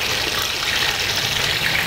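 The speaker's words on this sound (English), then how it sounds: "So we're frying this chicken." Chicken pieces frying in hot oil for Chinese-style chicken, a loud, dense, continuous sizzle and crackle with no talk over it.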